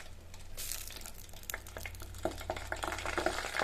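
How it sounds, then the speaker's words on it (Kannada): Sharp crackling and popping from a drop of water hitting hot ghee, irregular bursts over a steady low hum, close and fairly loud, no voices. "ಒಂದು ಡ್ರಾಪ್ ನೀರು ಹಾಕಿ ನೋಡಿದರೆ ಅದು ಜೋರಾಗಿ ಚಟಪಟ ಅಂತ ಸಿಡಿಯುತ್ತೆ"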